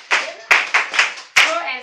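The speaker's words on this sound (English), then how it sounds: "Clap for Jerry" Children in a classroom clap their hands together in a short burst, a few sharp, distinct claps that are loud and close, with uneven spacing and no talking.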